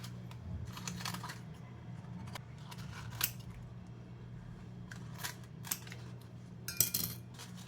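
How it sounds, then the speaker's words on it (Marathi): Scissors snip jackfruit leaves, trimming the top edges off leaf cups folded for idli; several crisp, separate cuts at close range with quiet handling in between and no talk. "हे वरचे पानांचे कापून काढायचे आहेत"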